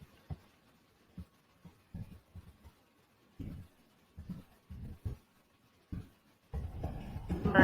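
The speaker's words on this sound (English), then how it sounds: "I'm just going to type" Scattered soft taps on a computer keyboard, irregular and close, come in small clusters with gaps between them, ending in a louder burst of rustling.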